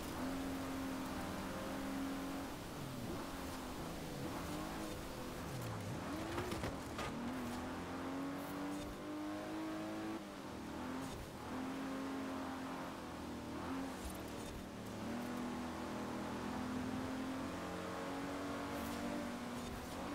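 A car engine in Forza Horizon 4 revs and drones continuously, rising and falling through gear changes with faint tire noise, close and steady and with no one talking.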